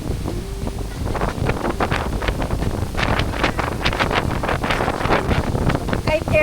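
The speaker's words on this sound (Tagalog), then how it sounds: "Grabe ang hangin." Strong gusty wind in Boracay, Philippines, buffets the microphone in loud, continuous bursts, with water and boat noise underneath and brief voices.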